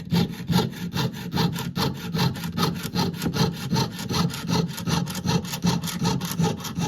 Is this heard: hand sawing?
yes